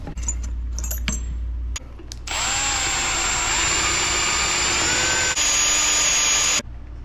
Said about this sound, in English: I'm going to drill and I'm going to tap this for this sensor